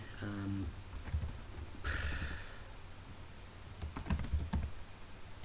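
Keys on a computer keyboard tapped in short bursts while a title is typed, soft and close, with quiet breathing and low background hum between bursts.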